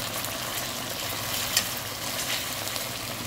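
Brown stew chicken browning in a pan for a Jamaican dish: a steady, dense sizzle and crackle of frying throughout, fairly close, with one small pop near the middle and no voices.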